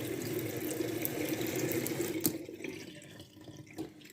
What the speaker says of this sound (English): we wash our hands really carefully under the water for 20 seconds